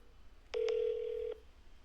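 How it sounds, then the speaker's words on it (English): A phone dials out to place a call: two short tone blips, then one steady tone lasting under a second, clear and close against a quiet background. "I'm going to call again."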